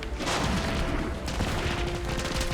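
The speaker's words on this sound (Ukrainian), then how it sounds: "Можна стріляти з автомата" Continuous rapid automatic rifle fire in the video game MINIMUM, a dense sustained burst filling the whole stretch with steady loudness.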